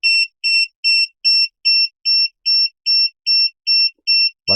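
A workshop device, part of an Elegoo Mercury X wash-and-cure bundle, beeps about ten times in a steady, evenly spaced run of loud, clear electronic tones, with a brief thump at the very end.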